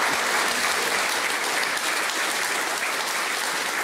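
A television studio audience gives a professor steady, full applause, thick and uninterrupted from start to finish.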